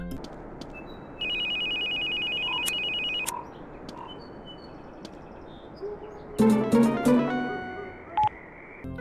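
A mobile phone ringing in The Sims 2 on PSP: a sustained electronic ringtone tone plays for a couple of seconds, then after a pause a louder melodic ring pattern of short bright notes sounds, with faint chirpy background ambience.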